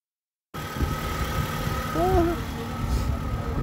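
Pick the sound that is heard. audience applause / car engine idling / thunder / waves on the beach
car engine idling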